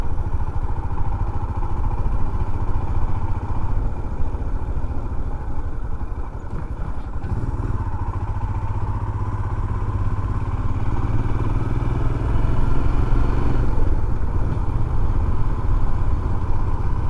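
A motorcycle rides steadily through a town centre, its engine a loud, continuous close drone with some wind rumble and little change in pace.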